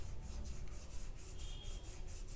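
A paintbrush scrubs across a textured painting surface in a landscape painting, giving soft, regular rubbing strokes that repeat about every quarter second, close and fairly quiet, with no talk.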